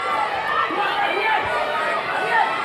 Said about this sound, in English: Well, you can hear the crowd, and they are indeed cheering on the host nation